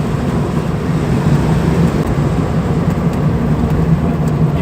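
A car engine driving along in fifth gear gives a loud, steady low drone with road and wind noise. It holds an even level throughout, with no talk over it.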